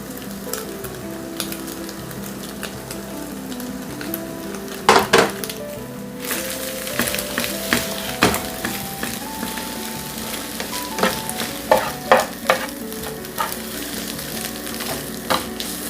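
Chopped pieces of chapati frying and roasting in a hot pan, with a steady sizzle broken by scraping stirs and a few sharp utensil clinks against the pan near the middle.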